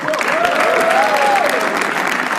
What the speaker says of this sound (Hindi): गाइस शाश्वत के लिए ताली बजाओ एक बार।